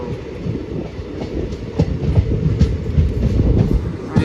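A train rolls into Bagdi Nagar railway station, wheels clacking rhythmically over rail joints with a loud, close, rumbling drone that builds slightly toward the end.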